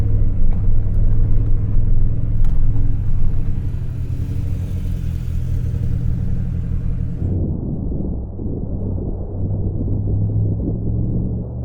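Side-by-side UTV motoring past on a desert wash trail near Moab, its engine a steady mid-pitched drone that swells, then fades into a duller rumble as it moves on, heard alone with no talk.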